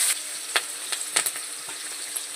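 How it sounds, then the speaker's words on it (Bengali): Slit green chillies hit hot oil tempered with nigella seeds for a fish jhal, crackling in a soft steady sizzle punctuated by a few sharp pops, fairly quiet. "কাঁচা লঙ্কা চিড়ে রেখেছি ওটাকে দিয়ে দেবো"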